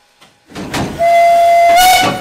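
Steam locomotive 98 886, a GtL 4/4, on a special heritage run between Fladungen and Mellrichstadt, sounds a loud, sustained whistle close by over the chuff and rumble of the moving train.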